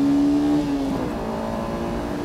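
Race car engine at Fuji Speedway, heard from the cockpit: a loud, steady droning roar holding high revs with a tonal whine that dips slightly partway through, no talking.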